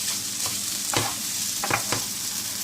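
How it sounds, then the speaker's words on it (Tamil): Egg podimas stirred and frying in a nonstick pan: a steady soft sizzle with a few scraping stirs of the spatula, close and alone with no talking. "நான் கைவிடாமல் இப்படி மிக்ஸ் பண்ணிகிட்டே இருந்தேன்."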